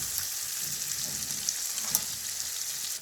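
Shinwari-style chicken karahi sizzles steadily in a wok while being stirred, a constant hissing fry with a few soft scrapes and clicks, close and without talk.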